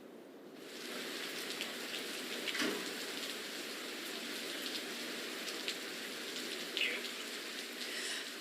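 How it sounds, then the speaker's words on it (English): Heavy rain pours steadily on East 63rd Street in Savannah during a tornado warning, a dense unbroken hiss of falling water with a few faint knocks and splashes, no voices. "The rain is pretty steadily pouring down."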